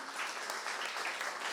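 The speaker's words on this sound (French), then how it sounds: "Un grand merci à mes formidables invités, qu'on peut applaudir une dernière fois" Audience applause at a French-language poetry event, a brief, fairly faint burst of many hands clapping in a steady dense patter.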